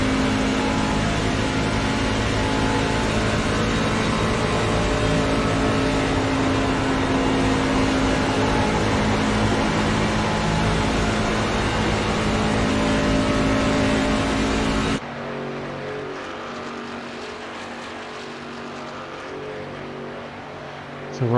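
A race truck on a flying lap at Michigan speedway, its engine droning loud and steady as it builds speed, then dropping abruptly to a quieter, lower rumble near the end.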